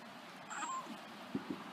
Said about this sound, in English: I really like it when cats meow.